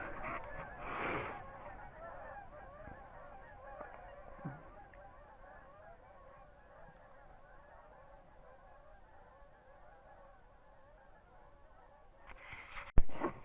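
Geese honk in a noisy flock at a distance, a steady chorus of calls, with a louder nearby honk at the start and end.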